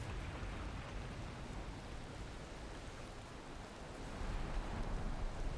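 Rain in the Valheim video game, a steady, soft hiss of falling rain, constant and moderately quiet, growing slightly louder near the end.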